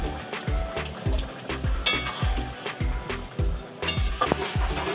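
Pieces of katla fish going into a pan with boiled Chandramukhi potatoes, a steady loud sizzle with repeated rhythmic scraping and stirring of the pan and occasional metallic clinks, close up.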